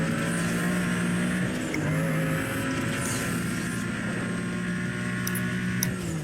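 Car engine accelerating in the video game Need for Speed Most Wanted, a steady loud roar with rising and shifting engine tones across the whole stretch, no talking over it.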